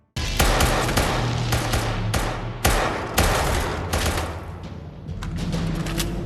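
Rapid gunfire from a shootout in the Squid Game series, with repeated loud shots and bursts crackling over a dense, continuous barrage; no voices.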